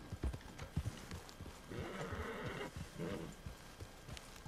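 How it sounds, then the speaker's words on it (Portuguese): Black horse's hooves clip-clopping in Red Dead Redemption 2, irregular near steps over a low ambient background. "Olha é que cavalo bonito esse preto"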